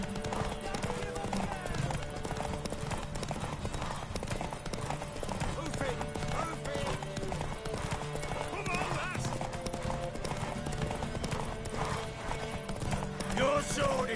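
Horse hooves clip-clopping in The Witcher on PS5, a steady trotting rhythm with a whinny, under game music and character dialogue.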